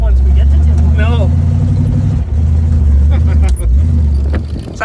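A vintage Ford or Chevy car engine driven around, a loud low rumbling drone that dips briefly between gear changes, with people talking over it close by.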